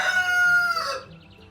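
A rooster crows once, loud and close, its call stretching out and trailing off into quiet.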